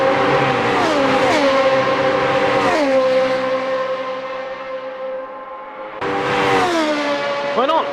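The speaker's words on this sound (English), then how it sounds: "it looks like he's revving it up as much as he needs to" An open-wheel race car in a racing video game screams around Hockenheim, its engine note rising and dropping through repeated gear shifts and revs, loud and continuous with a brief lull before climbing again.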